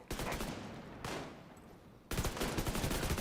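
A lightweight M4 rifle fires in Division 2, three dense bursts of rapid automatic gunfire sounding loud and close with a brief gap between them, the middle burst softer.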